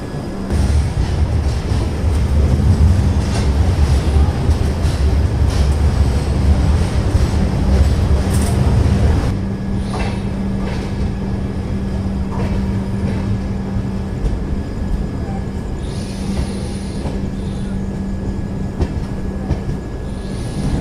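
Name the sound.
Cocanada Express train with LHB coaches running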